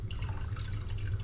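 Homemade honey-lemon syrup pours into a glass jar while making elderberry lemonade, giving a short, steady trickling and dripping sound, close and fairly loud, with no voices.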